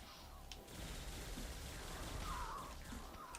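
A Demon Avenger skill explosion from MapleStory bursts through busy game effects, with crackling blasts and a bright whooshing flare near the middle, loud and continuous with no speech over it.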